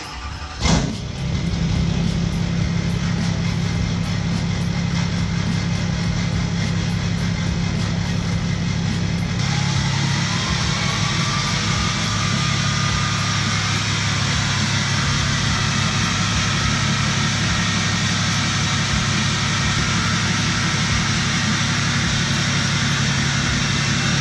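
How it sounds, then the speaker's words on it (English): A Ford Raptor truck engine idles and rolls slowly into a garage on a rainy day, a steady close low rumble with a brief sharp knock near the start and a slight shift in tone partway through. "I'm gonna try to pull the truck in the garage"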